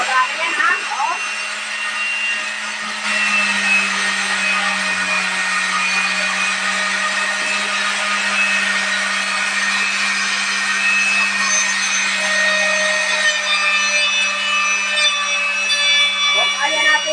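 Two power tools running together on a solar power setup give a loud, steady motor whine and hum that continues throughout, with a faint voice in the background.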